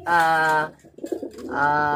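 A bird coos twice, close and clear, with a brief soft rustle in the pause between the calls.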